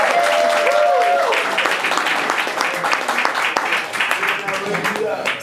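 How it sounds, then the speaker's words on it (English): An audience at a comedy show applauds comedian Rachel, with dense clapping mixed with cheers and voices throughout. "Give Rachel another round of applause."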